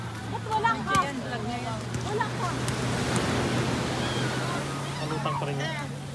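Strong ocean waves surge and wash in deep water during a banana boat ride off Puerto Galera, a steady broad roar throughout with people talking over it.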